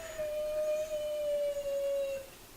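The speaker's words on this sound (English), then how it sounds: "You can probably hear the dogs are ready to go out." A single dog howls in one long, steady, slightly falling tone for about two seconds, moderately close against a quiet room.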